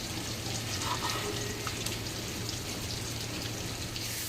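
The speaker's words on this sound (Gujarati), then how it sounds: "અમારે ત્યાં તો રાતથી ચાલુ જ છે, સુરતમાં બહુ વરસાદ પડે છે" Steady heavy rain in Surat patters densely throughout, a constant hiss of drops on a surface with no voices.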